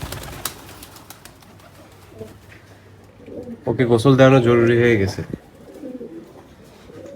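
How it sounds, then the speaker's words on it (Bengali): A pigeon's low, rolling coo swells for about a second and a half close to the microphone inside a pigeon loft, between stretches of a person speaking. "এখানে যে কটা সিঙ্গেল সিঙ্গেল কবুতর বসে আছে"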